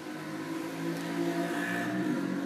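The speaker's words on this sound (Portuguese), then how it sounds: "Passou uma moto agora" A motorcycle passes by outside with a steady, moderately loud engine drone and a harmonic whine that swells slightly partway through. No one speaks.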